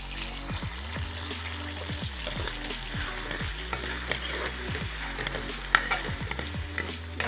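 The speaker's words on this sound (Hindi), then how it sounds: "ऑयल हमारा गरम हो गया। हम प्याज शामिल कर लें।" Onions sizzle steadily in hot oil while a utensil scrapes and stirs the pan in repeated strokes, close and continuous.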